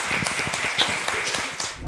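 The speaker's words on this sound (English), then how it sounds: "With a round of applause," An audience at a startup founder pitch event claps to welcome a founder to the stage, brisk close clapping that stays dense and even for a couple of seconds.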